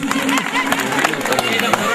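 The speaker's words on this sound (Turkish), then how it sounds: "Alkışlıyoruz efendim Mesut Uçan'ı" Crowd at a village fundraising celebration in İkizören applauding a donor, steady dense clapping mixed with loud background chatter and babble throughout.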